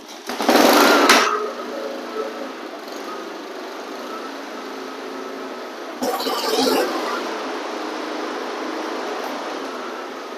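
A flood-damaged lawn mower engine runs near and steady, with a faint uneven hum and a struggling idle, interrupted by two louder noisy bursts.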